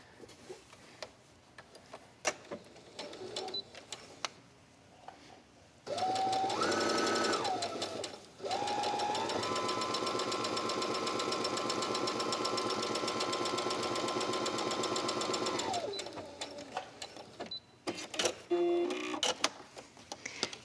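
A sewing machine stitches quilt fabric pieces in a long, steady, close run of fast mechanical whirring, with scattered handling clicks and taps before and after.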